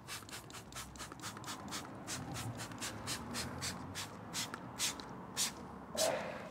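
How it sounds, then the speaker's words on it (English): Rapid repeated hisses of a trigger spray bottle spraying wheel cleaner onto a car wheel, a quick string of short puffs, close by with no talking. "I've got an even film spray, bottom to top, top to bottom"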